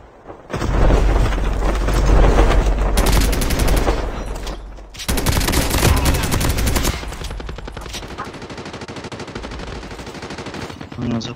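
Rapid automatic fire from an EM2 rifle in Call of Duty Mobile, loud dense bursts in two long strings with a short gap, then lighter scattered shots trailing off.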